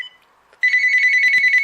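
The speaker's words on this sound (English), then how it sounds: "we have flicker and clatter and other ringtones" An old cordless phone plays a ringtone, a bright electronic warble that starts abruptly after a brief quiet beep and repeats in a rapid, steady pulse close to the microphone.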